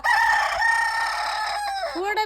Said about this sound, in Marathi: कोंबड्या घरी येतात.